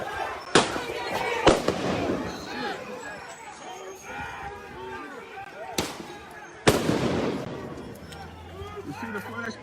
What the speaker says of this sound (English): You see the flashbangs?